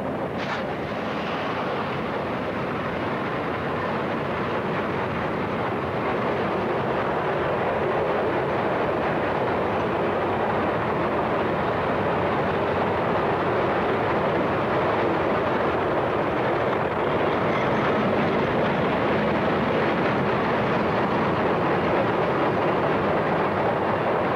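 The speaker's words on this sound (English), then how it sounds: "we spot a 5-unit lead train northbound for Valdosta" A northbound Georgia Southern and Florida freight led by five diesel units, including U23Bs, rumbles past in a loud, continuous roar with heavy low-end rail noise and no talking.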